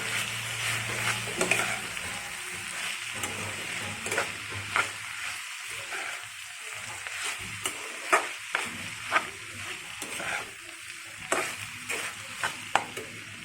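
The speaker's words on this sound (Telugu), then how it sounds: "కారం వేసి బాగా కలుపుకోవాలండి" Ivy gourd curry with chili powder gets stirred in a pan: a soft frying sizzle beneath repeated scraping spoon strokes and light taps, fairly quiet and close, with no talking.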